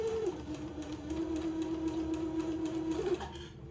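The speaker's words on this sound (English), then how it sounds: "I will just slowly sew my elastic casing along the bottom of each leg opening." A sewing machine slowly stitches elastic casing along a leg opening, giving a steady, close motor whine that runs continuously before tapering off at the end.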